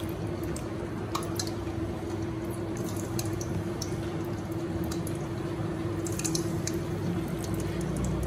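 Chicken wings for BBQ buffalo wings dropped one by one into hot oil and deep frying, a steady close bubbling sizzle with scattered sharp pops, continuous and fairly even throughout with no talking.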